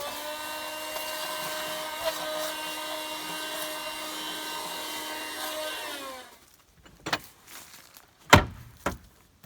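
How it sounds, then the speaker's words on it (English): A small portable vacuum cleaner in a camper van whines steadily with a high motor hum, then powers down around six seconds, followed by a few scattered clicks and knocks. "this portable vacuum cleaner"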